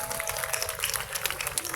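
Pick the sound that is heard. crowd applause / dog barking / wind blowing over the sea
crowd applause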